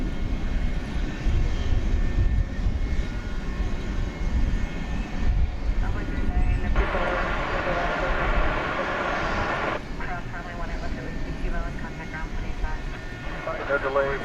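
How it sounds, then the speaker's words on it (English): An American Eagle Embraer 175 jet takes off at night from DFW Airport, its engines a sustained rumbling roar with a brighter surge midway, while a person keeps talking over it. "American Eagle E-Jet, Embraer 175, flight 3954"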